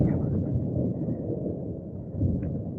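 Thunder rumbles low and continuous through a sudden rainstorm at a hilltop temple, a dense steady roll with rain hiss beneath and no clear talk.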